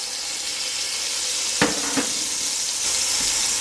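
Minced garlic and crushed red peppers sizzling in hot oil in a double-bottomed pan, a steady bright crackling hiss close by, broken by two quick clinks of a utensil against the pan, with no talking.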